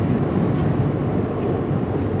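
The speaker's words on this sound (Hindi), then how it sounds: "बाइक भगाने का मज़ा भी अलग ही है ऐसे रोड पे" A BMW motorcycle speeding along the Astore Valley mountain road near Fairy Meadows, a steady loud engine roar blended with heavy wind buffeting the microphone, continuous throughout.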